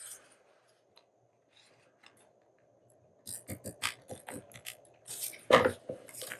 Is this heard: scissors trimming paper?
yes